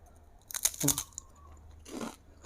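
Sticky squid-flavoured candy being bitten and chewed up close, with a few crunchy, crackly bites early on followed by softer chewing sounds, no talking.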